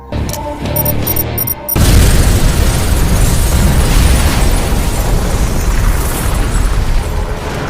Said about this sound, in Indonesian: Robert lebih dulu meledakkan bom yang sudah ia aktifkan.